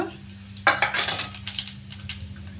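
Cumin seeds tipped into hot oil with dried red chillies to temper veg dalcha: a sudden crackle on contact, then a run of sputtering pops that fade slightly, close by with no talk.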